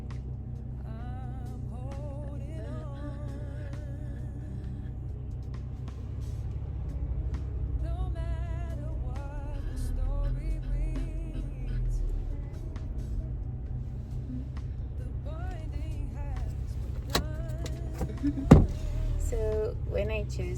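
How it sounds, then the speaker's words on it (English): Road traffic rolls past in a continuous low rumble of engines and tyres, with a few tonal squeals and one sharp knock near the end, while a voice talks over it. "The traffic is moving."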